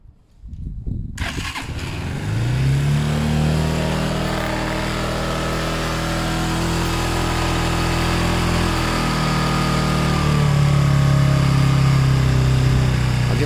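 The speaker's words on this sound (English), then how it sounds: "Let's go back to full choke." A Zontes 125 motorcycle on full choke cranks briefly, catches, and settles into a loud, steady idle close by. The idle hums evenly and rises slightly in pitch toward the end.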